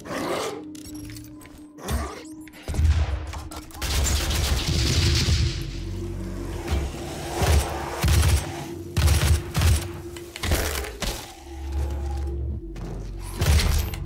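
Grenade explosions and bursts of gunfire in the DOOM video game, loud booms and rapid shots rolling over a continuous low roar of game audio.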